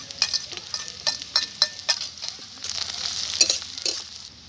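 Chopped onion and green chilli hit hot oil in a frying pan, giving a steady sizzling hiss broken by several sharp ticks and scrapes of stirring.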